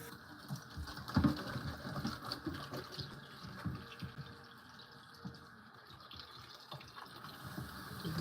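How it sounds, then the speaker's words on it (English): Baby potatoes being rinsed under a running kitchen tap, a steady close patter and splash of water with faint clatter, no talking. "Give them a good rinse."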